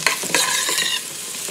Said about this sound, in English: So we're just going to stir that